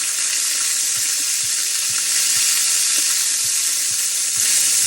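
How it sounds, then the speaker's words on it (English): An air fryer cooks a tomahawk steak with a steady, loud whooshing hiss of circulating hot air, broken by faint soft thumps at roughly even intervals, with no voices. "We're going to actually do it on air fry rather than bake or boil or anything."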